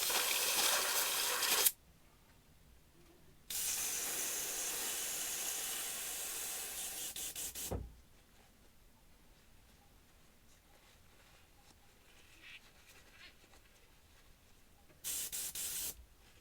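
Airbrush blowing cleaner through during cleaning, in two long steady hissing bursts with a quiet gap, then a short burst near the end, close and loud, no speech.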